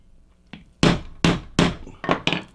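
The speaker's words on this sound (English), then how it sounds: "I'm going to stop on the hammering while you guys are still listening" A pistol being field stripped on a tabletop is struck with a hammer, giving five sharp, loud, evenly spaced impact knocks with short ringing decays, close up, with no talk.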